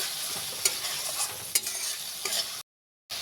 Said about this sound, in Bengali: দিয়ে এটাকে লাড়াচাড়া করে ভাজে নেবো